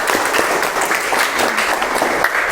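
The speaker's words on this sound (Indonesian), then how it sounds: "Minta tolong tepuk tangannya untuk Mas Nizar." A classroom of students applauding a classmate, steady close clapping from many hands throughout.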